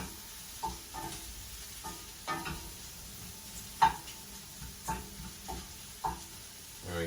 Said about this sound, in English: Mix these around a little bit. You just want to cook these down until they soften.